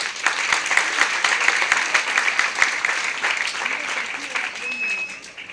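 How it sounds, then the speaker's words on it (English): Audience applause for volunteer board members at a school ceremony in Dunoon, a steady dense clatter of many hands, fairly close and sustained, with faint voices and a whistle showing through near the end. "Give the volunteers on the board your applause."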